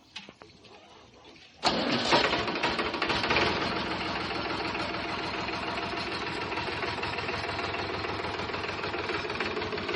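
A tractor engine cranks and catches after a quiet opening, then settles into a loud, steady chugging idle that runs to the end.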